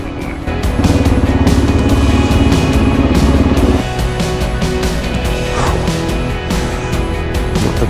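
A motorcycle on an adventure ride to Barrington Tops, damaged along the way, drones steadily and loud up close, with engine pitch shifting as it is ridden and wind noise over it.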